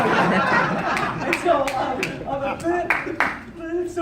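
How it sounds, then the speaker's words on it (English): An audience at a Youngevity talk breaks into scattered applause, several claps ringing out alongside chatter and light laughter from the crowd. "Finally a clap."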